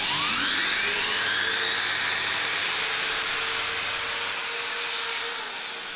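A Festool electric sander works across wood with a steady, loud high-pitched whine and hiss that holds throughout, easing off slightly at the end, with no one talking.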